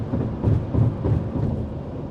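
Thunder from a passing storm rolls as a deep, continuous low rumble that swells and fades in slow waves, fairly loud throughout.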